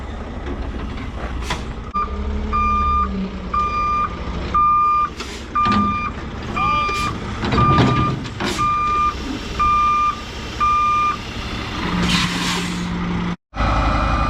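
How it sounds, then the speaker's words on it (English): Truck with a long lowboy trailer backing down into a hollow, its backup alarm giving a steady series of evenly spaced beeps over engine rumble, with occasional air-brake hisses and bangs. "He's backing down in that hole so he can turn this long trailer around."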